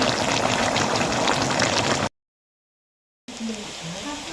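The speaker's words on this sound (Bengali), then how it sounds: "গরুর মাংসগুলো আমি এখন কষিয়ে নিচ্ছি" Beef simmering and being stir-fried down with spices in a pot for a Bangladeshi kosha curry, a steady bubbling, sizzling wash heard close for about two seconds, then a gap of silence and a quieter stretch of cooking.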